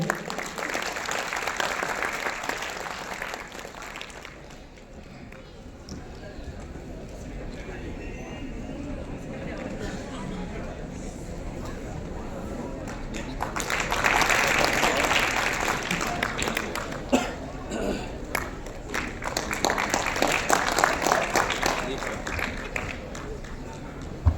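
An audience applauds at a student honors ceremony in Kalol, with broad bursts of clapping rising and falling across the passage over an ongoing voice on a public address system.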